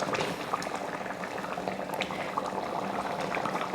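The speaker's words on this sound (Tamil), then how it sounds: "இப்போ குழம்பு வேக வச்சு ஒரு 10 நிமிஷம் ஆயிடுச்சு" Dried fish curry with cowpeas simmering in a pot after about ten minutes of cooking, a steady close bubbling and popping with soft liquid gurgles throughout, no voices.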